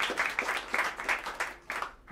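Audience applause at a live jazz gig at Smalls for the guitarist of a quartet, a few seconds of moderately loud, uneven clapping in a small club that swells and dips.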